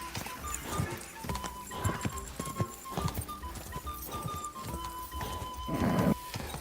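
A horse clip-clops at a gallop in Kingdom Come: Deliverance II, its hoofbeats uneven and close, with a brief neigh and scattered game sounds in the mix.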